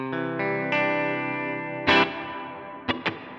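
Electric guitar through the HX Stomp Dynamic Hall reverb at factory settings: a sustained chord swelling in a few stepped strums, then a sharp strum and two quick stabs, each trailing into a wide hall wash.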